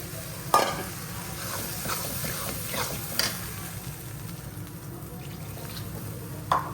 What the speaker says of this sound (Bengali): টমেটো দিয়ে কষায় নিলাম